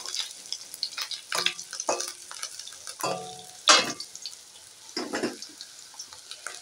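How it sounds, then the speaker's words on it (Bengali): Fish roe fritters fry in oil while being turned, with crackling sizzle and intermittent scraping stirs and clinks, moderately close and without talk. "এইভাবে পরপর করে সব ডিমগুলোকে উল্টে আমি ভেজে নেব"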